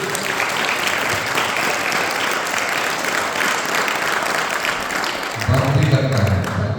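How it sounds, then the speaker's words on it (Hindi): Students and teachers at a school farewell for Class 8 applaud steadily in a dense, continuous wash, with a voice starting to speak near the end. "धन्यवाद स्वरूप तो उससे ताली बजा देंगे"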